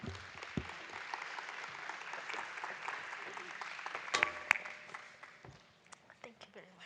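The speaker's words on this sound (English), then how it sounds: "let's give him another warm round of applause" Audience applause at an academic public procurement policy colloquium, a steady wash of clapping at moderate level lasting several seconds before thinning out, with a few louder claps near the end and speech-like sounds mixed in.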